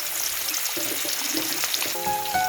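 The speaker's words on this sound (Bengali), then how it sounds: "তেলে মাছটা আমি হালকা করে ভেজে নেব।" Rohu fish frying in hot salted oil, a loud steady sizzle with crackling pops running throughout, close up and unbroken.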